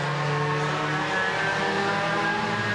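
Race cars run neck and neck around an oval track, including the 23 car, giving a loud, steady engine drone with layered tones and no clear pass-by peak.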